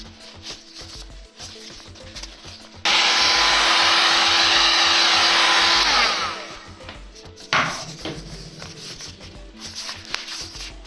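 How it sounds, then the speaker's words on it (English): A heat gun blows a steady, loud hiss for about three seconds while softening foam pieces for a cosplay helmet, with quieter handling noises and faint background sounds before and after. "I'm going to soften them with the heat gun"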